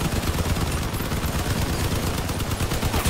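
Enemy bots in the vehicle combat game Crossout fire machine guns in dense, continuous rattling bursts. The fire is loud and sustained throughout, with no speech.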